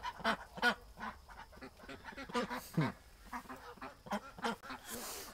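Ducks being fed quack and honk repeatedly nearby, a series of loud nasal calls in irregular bursts with little else around.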